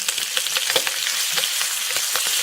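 Sous vide pork chops frying in butter in a pan, a steady loud sizzle with crackling pops throughout and no talking.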